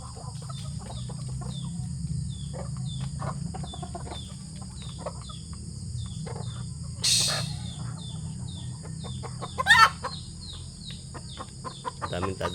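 Golden Boy and Pumpkin White Leg hens clucking in a backyard flock, soft repeated clucks over a steady low background hum, with a couple of louder calls midway.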